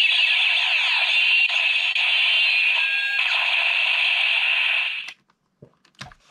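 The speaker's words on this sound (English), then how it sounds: "And the second one does the final attack noise," A Power Rangers Ninja Star Blade toy sword plays its loud electronic final attack effect, a sustained buzzing, sweeping tone lasting about five seconds before stopping abruptly, followed by a few faint clicks and handling knocks.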